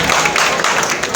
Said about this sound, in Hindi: अच्छा ये तालियां अगर इतनी बजानी है तो रहने दिया करें